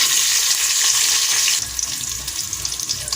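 Cardamom, cinnamon, clove, bay leaf and onion dropped into hot ghee and mustard oil, a loud hissing sizzle that eases into a lower crackle midway, no speech.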